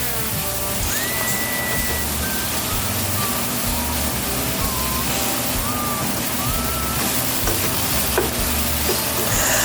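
Chicken sizzles steadily in a pan as it is sautéed for Filipino adobo, with a constant frying hiss and a few faint clinks and stirring sounds throughout.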